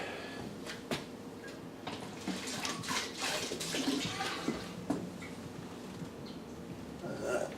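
Water splashes and gushes into a brewing vessel for an IPA, with intermittent clunks and knocks over a steady rushing background.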